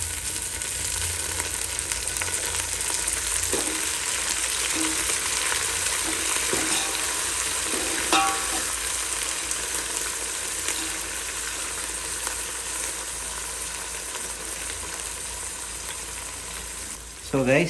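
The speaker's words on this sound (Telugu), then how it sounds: "మనం పుదీనా కొత్తిమీర వేసుకున్నాం కదా, ఫ్రై అయిపోతుంది" Onion, mint and coriander leaves fry in a pan for kichidi. A loud, dense, even sizzle continues throughout, with a brief scrape of a utensil near the end.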